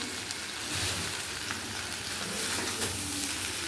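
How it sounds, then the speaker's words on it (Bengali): Onion and green chili fry with potatoes in a pan over steady, moderately loud sizzling, with occasional soft stirring scrapes and clicks. "এবার এগুলো একটু এই আলুর সাথে ভালো করে একটু কষে নেবো"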